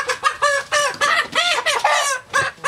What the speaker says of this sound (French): ça c'est une poule Brahma.